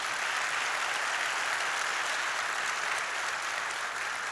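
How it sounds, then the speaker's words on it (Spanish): Church congregation applauding during a non-denominational worship service, a steady, dense wash of clapping that fills the whole stretch at an even level without pauses. "Dale un aplauso a Dios, se lo quiere dar"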